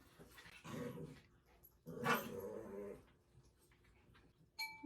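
Molly, a pet dog, growls and whimpers in two drawn-out bouts at close range, with a short sharp noise at the end and no talking.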